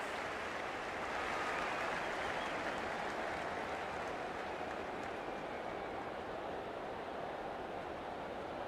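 Stadium crowd noise from the rugby league video game Rugby League 26, in a Broncos versus Dolphins match at kickoff, forms a steady, unbroken roar and cheer throughout, with no voices heard over it.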